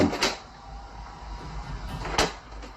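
A closet door bangs twice, a sharp slam at the start and another near the end, with a low rumbling hum in between.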